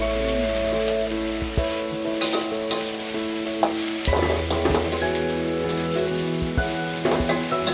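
Fish pieces and mustard greens fry in a hot pan, a steady loud sizzle broken by scrapes and clatters of stirring, close up with no talking.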